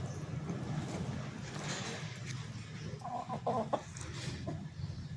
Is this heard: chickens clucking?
yes